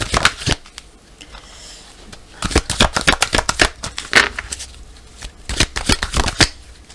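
Tarot cards being shuffled by hand before a four-card reading, giving a run of crisp riffling bursts separated by short pauses, close and fairly loud with no talking.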